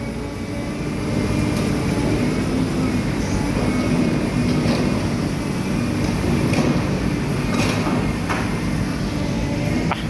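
A loud, steady rumbling roar of a BTS Skytrain running past on the elevated line in Bangkok, sustained at near-constant level for several seconds with faint clanks over it, no talking.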